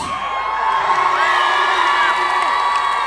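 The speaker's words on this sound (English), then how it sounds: "Give it up for our man of the match." A large crowd at a Limerick hurling homecoming celebration cheers and whoops loudly for man of the match Peter Casey, a steady roar of shouting and yells filling the whole stretch.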